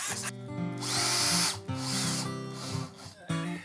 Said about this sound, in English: I'm going to put some screws in here.